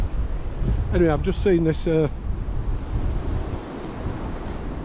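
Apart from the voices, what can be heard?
strong wind blowing outdoors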